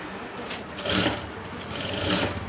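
A sewing machine stitches a blouse back in two short bursts of quiet mechanical whirring, separated by a brief lull, with no talk.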